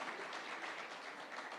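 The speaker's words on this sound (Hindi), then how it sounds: "पहले तो जोरदार तालियां इस मुद्दे पर।" A brief burst of steady crowd applause from a live summit audience, dense and even, heard at some distance without any voices.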